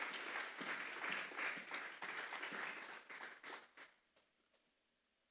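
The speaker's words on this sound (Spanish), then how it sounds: "Vamos a darle un fuerte aplauso pues al Señor esta noche" A church congregation applauds loudly together, a dense burst of clapping that fades out over several seconds, with no talking.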